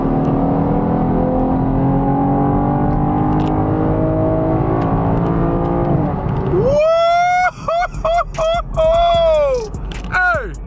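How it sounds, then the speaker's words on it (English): Car engine droning with rising, shifting pitch as it pulls away, then giving way to excited shouting voices nearby. "Just listen to the engine roar."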